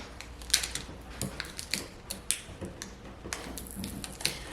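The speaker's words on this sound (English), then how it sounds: "And just peel the tape off." Tape being peeled off the taped-down cap of a vinegar bottle, a quiet run of dry crackling ticks and small sticky pops, close up with no talking.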